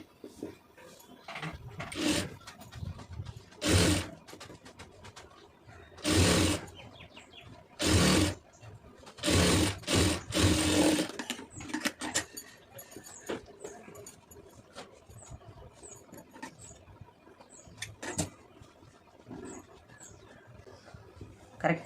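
Sewing machine stitching a neck design on a soft silk saree blouse, running in several short whirring bursts of a few seconds each, separated by pauses filled with small clicks and handling sounds.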